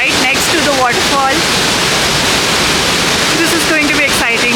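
Broadband rushing water from a waterfall beside a zip-lining spot amid lush greenery in Coorg, a steady loud roar throughout, with brief voices chirping over it near the start and end.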